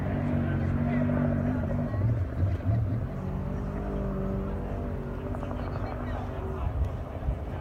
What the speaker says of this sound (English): You can hear Andy working the throttle, listen.